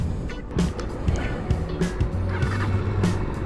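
A QJ Motor SRV 200 motorcycle idling close by, a steady low rumbling engine drone with slight throttle wobbles, heard outdoors with no talking over it.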